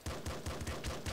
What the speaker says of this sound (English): I'll switch to my regular pistol.